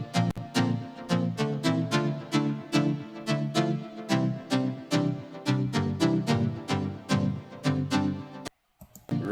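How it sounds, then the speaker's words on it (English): A big synth lead from a song's chorus, playing a brisk run of sharp, bright repeated notes in a steady rhythm. It is loud and upfront and breaks off briefly near the end. "once we start with the chorus, we actually get this big lead."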